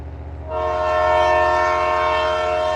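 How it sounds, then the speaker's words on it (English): A loud, sustained train horn blasts from a monster truck in the BeamNG.drive video game, a steady multi-tone chord that swells in after a moment of low rumble and holds at full strength to the end. "he's got an actual train horn on this truck"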